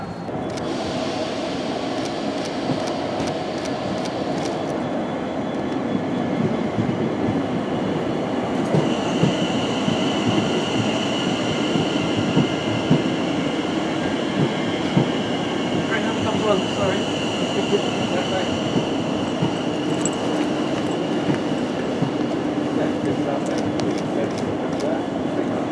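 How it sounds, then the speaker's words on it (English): A Class 730 electric train pulls into a station platform, a continuous rumble of wheels on rails with a rising whine and faint squeals, heard from the platform. "So the train should be arriving now,"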